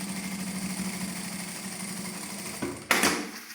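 A sewing machine runs steadily, stitching a lined fabric seam, with a continuous motor hum and needle patter, then slows and stops near the end with a couple of brief knocks.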